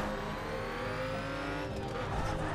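Steady, loud engine drone with rising pitch from a RUF car used as a raid vehicle in the racing video game The Crew, revving continuously with faint tire noise.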